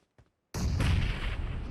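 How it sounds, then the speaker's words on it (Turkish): After a brief quiet moment, a sudden loud grenade blast bursts out in the PUBG Mobile battle game, rumbling and decaying over the next second, close and heavy. "Onlar da bana bomba atıyorlar anladım"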